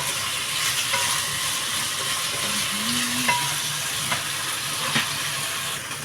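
Mushrooms fry in a pan of reused cooking oil with a loud, constant sizzle close by. A few scrapes and clinks of stirring break in now and then, and a faint voice is heard briefly.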